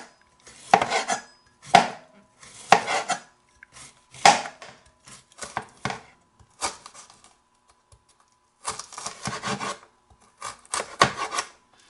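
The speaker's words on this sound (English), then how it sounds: "So we'll just continue with our slicing here." A knife slices through cabbage heads for sauerkraut, giving bursts of crisp, rasping cuts on a board in irregular clusters with short pauses between them, close and fairly loud.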